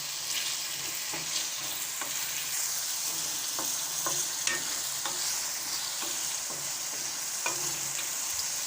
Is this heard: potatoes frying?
yes